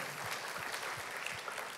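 A church congregation claps during an Easter sermon, a faint, distant patter of hands that carries on briefly and evenly, heard through a soft, reverberant room.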